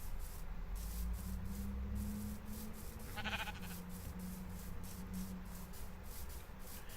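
Minecraft sheep in a pen bleat once over a constant soft game hiss and faint low hum, with no talking.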